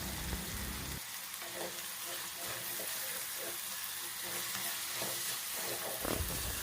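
Mixed vegetables frying in ghee for a one-pot veg biryani, a dense continuous sizzle with frequent stirring scrapes and clinks close by, steady and fairly loud throughout.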